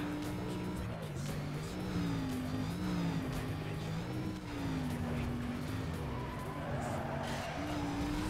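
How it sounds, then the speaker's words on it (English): Supercharged V8 race car in Need for Speed Most Wanted roaring past with engine pitch rising and falling through gear changes, loud and continuous with game music underneath. "superior supercharged V8 coming through"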